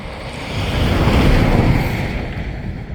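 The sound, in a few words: truck driving by near the Shasta River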